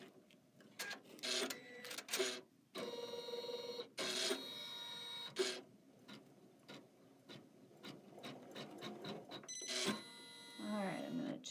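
A Kimberbell embroidery machine stitches in bursts of rapid mechanical clatter, stopping and restarting several times, close and fairly loud, with someone talking in between.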